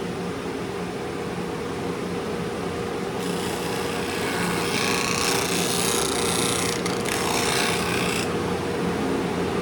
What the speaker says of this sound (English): These sanders do a lot of work for you.